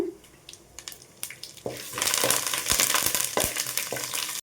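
Peanuts, cashews and curry leaves frying in oil start with scattered pops and clicks, then swell into a loud, close, steady sizzle with spoon scrapes cutting through.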